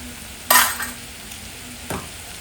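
Spoon stirring chili powder and spices in a hot frying pan: two brisk scraping strokes over a constant soft sizzle, close and clear.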